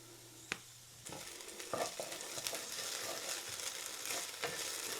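Onions and garlic sizzle steadily in a skillet, a soft continuous frying hiss with occasional stirring scrapes, heard alone without talk.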